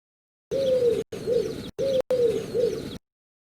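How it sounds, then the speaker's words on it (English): A pigeon coos close by in four clean, separate phrases, each a soft low warbling call with brief silences between them. "This is a pigeon."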